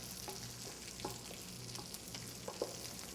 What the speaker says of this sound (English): Okay, I'm going to shut this off, give my gravy another stir.